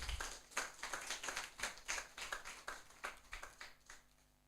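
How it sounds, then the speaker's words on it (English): A modest group at a training session claps for themselves, distinct individual claps in a quick irregular patter from a few people nearby that thins out toward the end. "Can you clap for yourselves"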